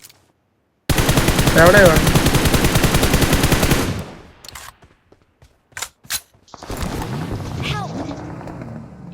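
Rapid gunfire from a shotgun in a video game, a loud dense burst of repeated shots lasting about three seconds, then scattered short bangs and a voice speaking under the game noise.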